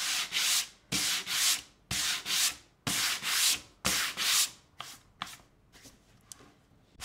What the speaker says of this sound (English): I'm going to give this a little bit of distressing with my sandpaper